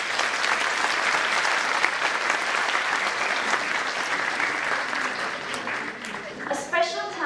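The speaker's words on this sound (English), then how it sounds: "Please give them a huge round of applause" Steady, loud applause from an audience fills the hall for the panelists and moderator and tapers slightly near the end, where a voice starts speaking.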